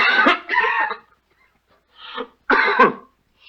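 Harsh coughing and throat clearing from a sick person with a fever, several rough bursts in two clusters separated by a short quiet gap, close and loud.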